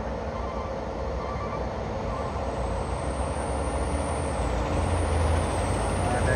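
An old Fuso dump truck's engine rumbles steadily as it climbs a hill, a low continuous drone that builds slightly toward the end, with no voices.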